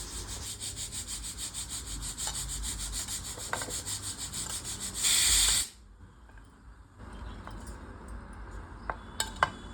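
Onions, tomato, garlic, ginger and green chillies being ground into a masala, a steady rough whirring grind that swells into a loud burst, then cuts off and leaves quieter clatter.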